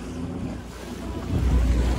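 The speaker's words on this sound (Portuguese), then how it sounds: "Isso aqui é uma moto aquática, certo?" A jet ski speeds across open water, its low engine drone and hull slap blending with wind buffeting the microphone and the wash of waves, growing louder toward the end.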